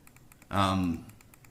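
A computer mouse clicks in a quick, even series of light ticks, and a short voiced sound from a person rises over the clicks partway through.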